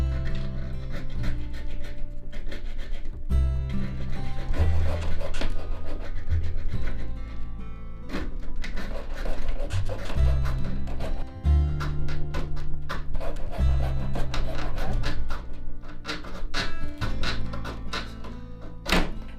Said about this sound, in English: Get a small hacksaw, hold on, and saw off the end bit.